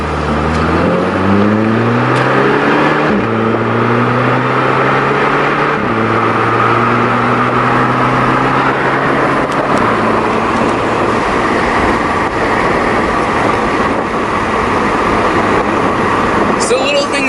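Engine of a VW MK6 with its muffler deleted, a loud, raspy exhaust drone with rising and falling rev sweeps throughout, close and continuous, with someone talking over it.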